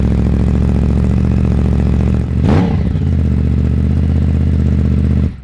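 A Yamaha R1 motorcycle engine idles loudly up close, with one sharp rev burst in the middle before settling back to a steady idle and cutting off at the end.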